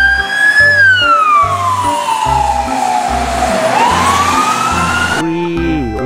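Toy ambulance siren wailing loudly and continuously, sweeping up and down in pitch over a steady electronic tone pattern.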